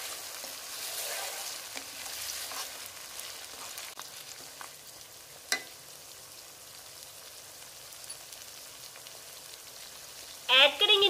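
Onions fry and get stirred for a mutton and cauliflower curry, a soft, faint sizzle with occasional spoon knocks and a louder scrape near the end.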